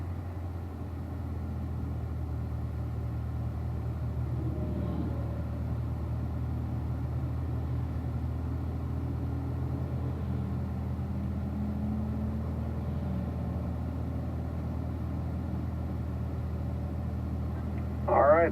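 A car on a race track during a slow cool-down lap, its engine a steady low rumble and droning hum from inside the cabin, continuous and even throughout with no clear changes in pace.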